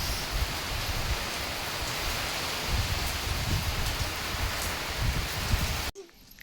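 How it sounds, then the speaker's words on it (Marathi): Heavy rain and storm winds roar steadily as a dense, continuous wash of noise, close and enveloping, with no voices, before cutting off abruptly near the end. "आणि हे बघा आमच्याकडे येतोय पाऊस."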